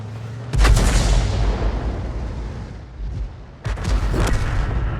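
AMX 13 F3 AM self-propelled artillery gun firing in World of Tanks: a heavy booming shot with a long rumbling decay, then a second deep blast a few seconds later.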